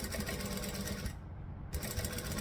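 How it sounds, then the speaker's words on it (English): A sewing machine stitches a tote bag with a fabric panel at slow speed, a close, continuous rapid whirring hum with a brief dip midway. "I prefer to just sew slowly and hold it in place a little bit at a time."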